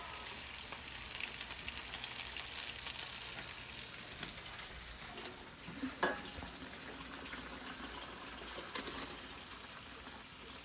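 Tuna fish frying in a pot during a home lunch cook, a steady broadband sizzle running throughout with a few brief clinks and stirring knocks near the middle.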